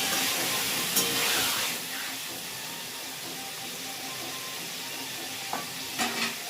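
Chicken masala sizzles steadily in a pan while being stirred, with a few sharp scrapes of the spoon standing out against the constant frying hiss.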